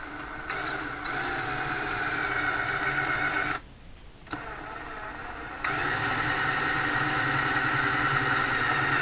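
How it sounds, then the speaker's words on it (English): A drill with a 1/2-inch bit whirs steadily at close range as it bores a small shallow divot, briefly stopping and then restarting with a constant motor whine. "take a 1/2-inch drill bit, come in here, and ever so slightly drill a small divot"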